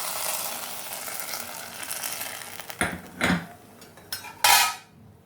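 Rice is stirred with ghee and cumin in a pot, giving faint sizzling and a few scraping clinks of a spoon against the metal in short bursts, with no talk.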